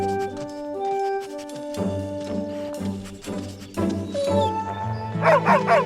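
Dog barking repeatedly in a lively cartoon scene, several close yips and bow-wows over background music, ending in a quick run of high excited barks.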